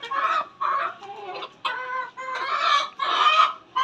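An Ayam Cemani rooster, a black chicken breed, clucks close up in a series of about six short, throaty bursts separated by brief pauses.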